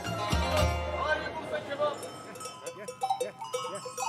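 Sheep from a flock raised on hillsides bleat repeatedly, mixed with the clinking of cowbells, under a person talking at the start, with the animal calls coming clearer and more frequent toward the end.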